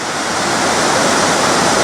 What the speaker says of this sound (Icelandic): Hérna rennur nokkuð þröngur gljúfri eða þrengingum og það sést hvað þetta mikið vatnsfall.